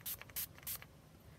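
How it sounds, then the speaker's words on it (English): Three quick spritzes of Mario Badescu rose water facial spray, each a short sharp hiss close to the mic. They come at an even rhythm in a quiet room. "the rose water spray. And then I'm just gonna spritz my face with that."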